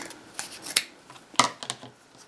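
Scissors snip through denim fabric in a few short, crisp cuts with sliding rasps between them, close and fairly quiet, with no talking.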